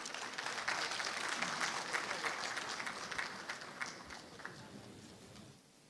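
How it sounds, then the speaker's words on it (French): Sustained applause from an audience at an official opening ceremony for a university conference, fairly distant and soft, with irregular clapping that thins out and fades away at the end. "Place à sa communication introductive sous vos applaudissements bien nourris"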